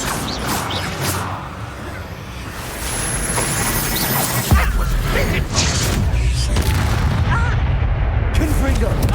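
A Bombarda spell explosion in Hogwarts Legacy goes off with a loud, sudden boom midway through. A dense rumble and crashing debris follow. Game ambience and some voices run underneath.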